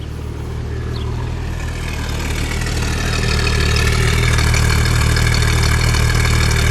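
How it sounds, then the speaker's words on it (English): A 1971 Ford Maverick Grabber engine idles steadily nearby, a smooth, even rumble that grows slightly louder and fuller as it runs. "Let me listen to it idle for just a minute."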